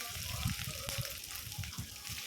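Sliced onions hitting hot oil in a pan for poori masala, a soft continuous sizzle and crackle, close and quiet, with no talking.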